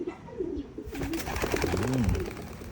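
Racing pigeons coo in short rolling phrases, a few birds close by, their throaty calls rising and falling over a soft background hum.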